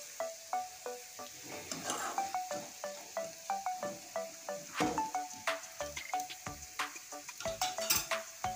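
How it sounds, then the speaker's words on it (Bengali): Spice paste and potatoes stir-fried in a pan, a utensil scraping and clinking against the metal in a steady repeated rhythm over a soft sizzle, close and fairly loud, with no talk. "এটার মশলাটা আর আলু সমেত কষিয়ে নিচ্ছি।"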